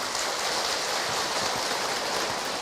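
An audience of mothers at a religious talk claps together, a dense, steady, rain-like wash of applause at even loudness throughout.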